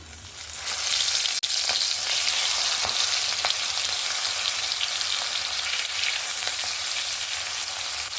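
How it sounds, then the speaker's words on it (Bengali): Prawns frying in hot mustard oil in a pan, a loud, steady sizzle that holds throughout, broken by a sharp click early on and a few small pops. "তেলটা এখানে গরম হয়ে গেছে, আমি একে একে চিংড়ি মাছগুলো দিয়ে দেবো।"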